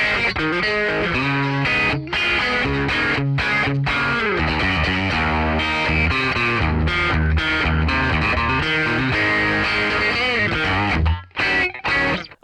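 An electric guitar played through a Fractal AM4 amp modeler gives a distorted, effects-laden tone. It runs loud and continuous with dense chords and riffs, then breaks into choppy stops near the end.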